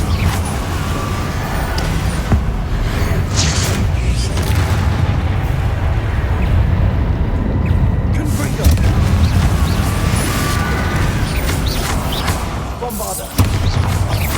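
Explosive Confringo spell blasts boom through a chaotic Hogwarts Legacy battle against swarming Inferi, a loud, dense rumble of magical impacts and combat noise carrying on throughout under a shouting voice.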